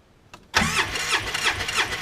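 A 2005 Polaris Ranger XP 700 engine cranks over at wide open throttle during a compression test, a quick click then a loud, rhythmic chugging of the starter and pistons pulsing evenly for under two seconds.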